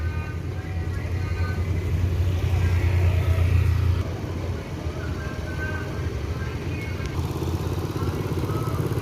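AKDP intercity bus operated by Mekar Maju Express at Solok bus terminal, a low diesel engine rumble idling close by and then easing off, with someone talking over it.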